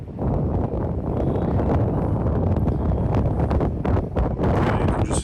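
Wind on a disc golf course buffeting the microphone, a continuous loud low rumble with gusty swells and no pauses, close and dominant throughout.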